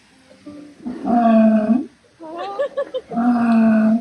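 A sea lion at a theme park show gives two loud, drawn-out guttural roars nearby, separated by a short burst of choppy, barking vocal sounds.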